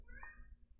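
A single cat meow, rising and held briefly, close and fairly clear over a low background hum, with no talking.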